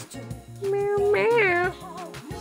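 A cat in Persona 3 FES gives a clear, drawn-out meow over looping game music, with a person talking briefly nearby.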